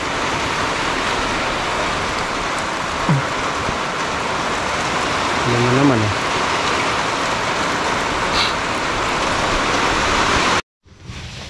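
Light drizzle falls steadily on a banana farm with a constant soft hiss, a brief voice speaks, and the sound cuts off abruptly near the end.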